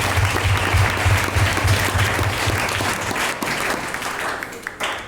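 A church congregation applauds in a steady, loud wash of clapping during a worship service, with a low musical hum underneath; the applause thins and fades toward the end.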